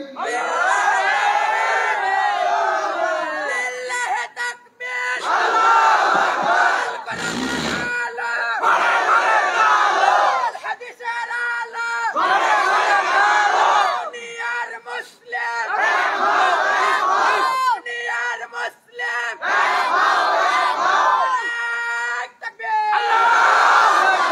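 A large crowd at an outdoor Islamic sermon in Rajshahi shouts the takbir in loud, repeated waves of massed voices. Each surge lasts a few seconds and is followed by short pauses before the next rises.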